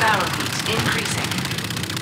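Rapid, continuous automatic gunfire from a Call of Duty: Infinite Warfare weapon rattles in a dense, unbroken stream of shots until it overheats.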